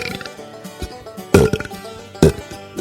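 A wet belch sound effect played as a radio-show bit, with two loud, gurgling bursts near the middle and end set over a music bed.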